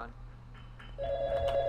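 A telephone in Garry's Mod rings with a bright electronic tone that starts partway through, faint and set against a low background hum.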